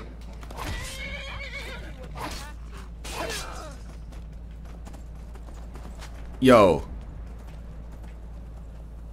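Horse neighing and hooves clopping in the Skyrim video game, several whinnies spread across the clip with a sharp, loud neigh near the end, over light game ambience and a brief spoken interjection.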